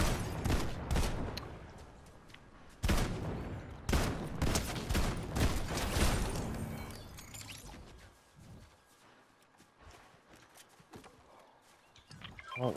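Gunfire in Fortnite: bursts of rapid shots crackle in close, loud volleys, then thin out into scattered pops and clatter, with footsteps and movement sounds in between.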